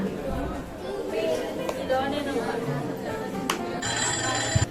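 A phone rings with a bright electronic tone near the end, following a stretch of people talking in the background.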